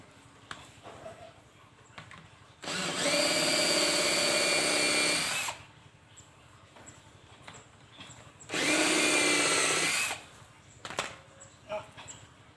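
A power drill drives a bolt into a wooden bed leg in a carpentry job, running in two sustained whirring bursts of a few seconds each, separated by quiet handling clicks and knocks.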